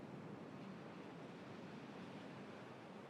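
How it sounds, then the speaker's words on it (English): Water rushes into a freshly dug basin in the Timberborn building game, a steady broadband roar like surf, moderately quiet, with no talking. "Actually, we'll let all this water in here right now."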